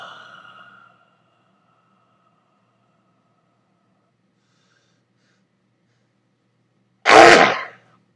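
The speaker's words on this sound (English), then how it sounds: "it's making me sneeze" A person with a sinus infection lets out a single sharp, loud sneeze near the end, after a faint breathy sound at the start and a long stretch of silence.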